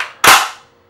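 The charging handle of an SKS rifle in a bullpup stock is racked once, giving a single sharp, loud metallic clack that rings out and fades within half a second, with no talk.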